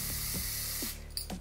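Quiet hissing spray from a makeup foundation bottle onto a brush, a steady short burst followed by a few faint clicks of the nozzle.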